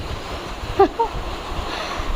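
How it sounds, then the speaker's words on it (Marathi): Strong wind driving rain into a house during the monsoon makes a steady, broadband rushing roar. A couple of faint, brief tonal chirps poke through near the start. "पावसासोबत वारा खूप जोराचा येतो आहे"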